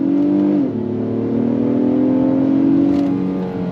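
A 2026 Acura MDX A-Spec V6 accelerating hard under paddle-shifted manual control, its loud steady engine note climbing, briefly dipping at a gear change, then rising again, heard up close from inside.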